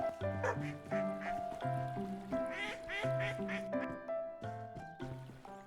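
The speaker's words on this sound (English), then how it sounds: "That duck was on one." Several quick nasal duck quacks in the video game Kynseed, rhythmic bursts over soft background game music, fairly close and clear.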